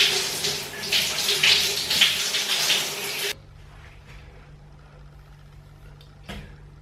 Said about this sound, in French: douche.